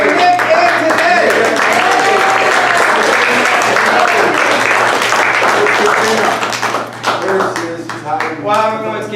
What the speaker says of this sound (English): a quick round of applause for Nick and today